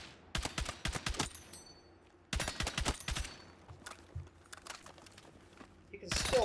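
Bursts of full-auto rifle fire in the Battlefield 6 video game, two long rapid strings of loud shots separated by a short pause, followed by sparser scattered shots and a rising noise at the end.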